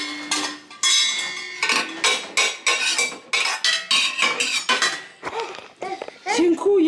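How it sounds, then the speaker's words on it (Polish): Metal cutlery being pulled out at home, heard as a string of bright, close clinks and rattles in uneven bursts, with short pauses between handfuls and a few brief sounds near the end. "I jeszcze te sztućce. Wyciągamy je."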